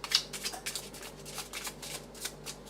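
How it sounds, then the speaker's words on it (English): A deck of cards being shuffled nearby, a quiet run of crisp riffling flutters and soft slaps repeating steadily for a few seconds. "And I'll shuffle the cards now."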